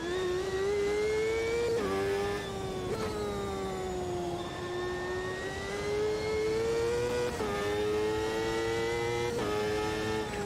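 A race car in the sim racing game Automobilista 2 at Road America holds a loud, sustained engine drone, with pitch rising through each gear and dropping sharply at upshifts several times, alone without talk.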